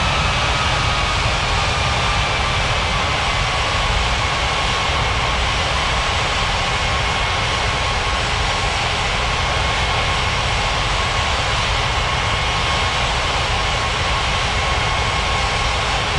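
Cathay Pacific jet airliner taking off from runway 27 at Ngurah Rai Bali International Airport, a loud continuous engine roar and rushing hiss held steady throughout, with no voices.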